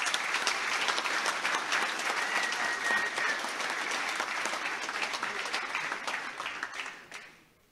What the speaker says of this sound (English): Can we please give a round of applause to Thomas in his absence for his service?